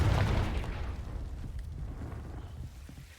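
A Confringo fire spell goes off in Hogwarts Legacy with a deep boom at the start. The blast then fades into a low rumbling tail with no talking.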